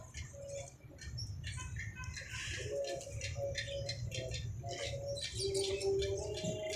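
Six young wild pigeons coo in repeated short, soft calls with chirps and rustling close by, and faint voices sound in the background.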